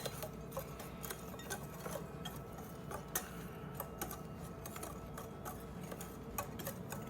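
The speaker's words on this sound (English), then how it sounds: "We're just going to whisk all this stuff together. The dry ingredients, and then we'll start on the wet ingredients." Dry ingredients for pineapple bread are whisked in a bowl, making quiet rapid ticking and scraping taps in an uneven rhythm, close and soft with no talk.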